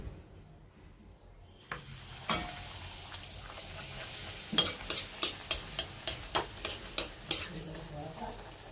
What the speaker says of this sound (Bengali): লুচি ভাজা কমপ্লিট হয়ে গেল